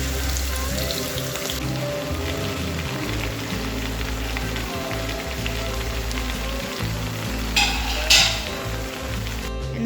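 Chicken stuffed cabbage rolls shallow fry in a pan, a continuous bright sizzle and crackle of hot oil with occasional louder spits and a sharper pop near the end.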